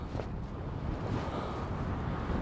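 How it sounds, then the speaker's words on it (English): Spring breeze blowing across Eastbourne beach, a steady broadband rush of wind buffeting the microphone, with a faint wash that may be surf underneath, continuous and fairly loud throughout. "That is actually the wind blowing the gimbal."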